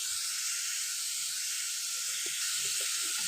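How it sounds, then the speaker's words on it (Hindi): Vegetables cooking lightly in a spoonful of oil in a pan, producing a steady broad hiss and sizzle that holds at an even level throughout, with a few faint low knocks underneath. "इसी में ये सारी सब्जियों को हल्का सा पका लेना है"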